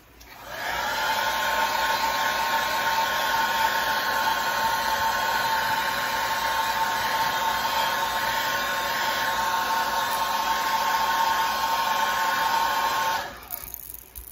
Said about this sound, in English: let's heat set this real quick and then we'll go over it one more time